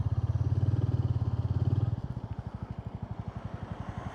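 Royal Enfield Meteor 350 motorcycle engine heard while riding, a steady rapid single-cylinder thump that is loud and throaty at first, then drops to a lighter, evenly pulsing beat as the revs ease, with no talk over it.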